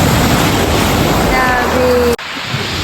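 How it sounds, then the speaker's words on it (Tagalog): Strong sea waves wash loudly around a small boat rowed by two people, with a constant roar of surf and wind buffeting the microphone before it briefly cuts out. "Ayan, ang lakas ng alon, guys."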